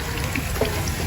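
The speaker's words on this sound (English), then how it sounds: "So I just turned the water on there," A tap runs on a homestead, pouring water to fill a rabbit waterer with a steady, close hiss and gurgle over about a second, heard alone.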